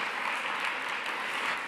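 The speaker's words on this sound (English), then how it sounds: "round of applause" Applause from the audience at a conference panel during a COP26 climate event, a fairly faint, even patter of many hands clapping that holds steady throughout.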